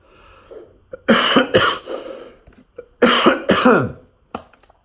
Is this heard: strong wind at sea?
no